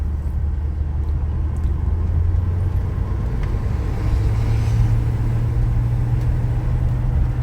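A 1984 Chevy C10 pickup truck drives along with a steady, loud low engine rumble and road noise that continues throughout without pause.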